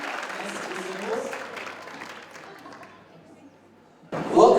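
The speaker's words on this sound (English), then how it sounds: "big round of applause for the community wind band" Crowd applause for the community wind band at a city community awards gala, full at first and gradually thinning out, then a sudden louder burst of sound at the very end.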